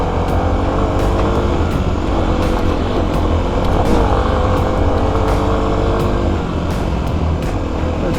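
A Kawasaki KLX250 dirt bike engine runs at full throttle in third gear on a steep trail, a loud, steady, continuous roar mixed with heavy wind rush for the whole stretch.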